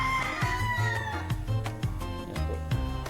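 A young gamefowl stag from a game farm, its mother from Red Game Farm, crows in short repeated calls, fairly close and clear over a steady outdoor background.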